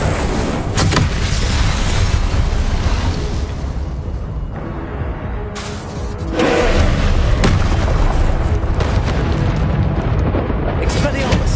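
Fire spells blasting in Hogwarts Legacy combat, loud booming bursts that recur over roughly eleven seconds amid dense game noise and music.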